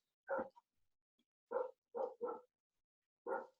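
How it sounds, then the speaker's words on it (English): A farm dog at a farmhouse front porch barks in short, quiet yaps, a few spaced single barks and a quick double bark, fairly near with silence between them. "My one dog's not going to stop barking"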